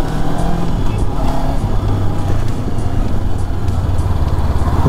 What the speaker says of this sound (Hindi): अगर मैं खींचूंगा तो गाड़ी भागती है।